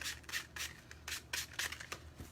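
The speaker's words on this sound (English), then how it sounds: "Just use your sandpaper to lightly go over this, just to scuff up the paint." Sandpaper lightly scuffs painted wood on a primitive candy corn craft, a quiet, close, rhythmic series of rasping strokes, about a dozen in quick succession with no talking.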